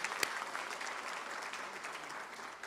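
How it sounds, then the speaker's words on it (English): Audience applause at a college inaugural celebration, a steady wash of many hands clapping from a moderately distant crowd, fairly even throughout with one sharper clap near the start. "Let's clap."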